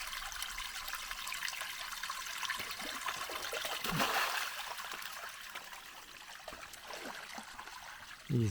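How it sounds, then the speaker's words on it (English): A lower creek runs past as a soft, continuous trickle of water, faint and steady with slight swells in the flow and no voices. "The lower creek is still running."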